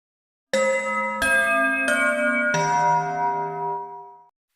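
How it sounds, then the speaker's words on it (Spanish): A school bell chime rings four clear, resonant tones in a descending-then-held sequence, each strike ringing on and fading out at the end, with no talk over it. "sonaría un timbre"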